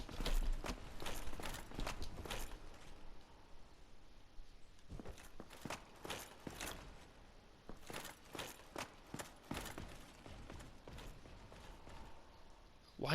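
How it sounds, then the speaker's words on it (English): Armored Silver Knights walk in Dark Souls Remastered, a series of sharp, metallic clanking footsteps in irregular clusters, moderately close, with faint other game sounds in between. "I can hear their footsteps."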